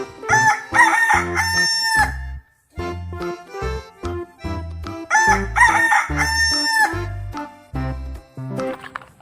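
A toy rooster crows loudly twice, each crow followed by a string of choppy clucks.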